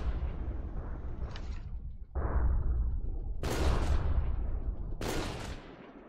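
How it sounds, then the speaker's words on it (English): Heavy artillery and automatic gunfire in a siege match of a military video game, with howitzers and machine guns firing: a steady rumble of fire punctuated by three loud, sharp blasts, the last two especially bright and close. "one has a machine guns. Another one has howitzers."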